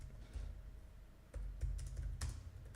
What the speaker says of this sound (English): if I could type right.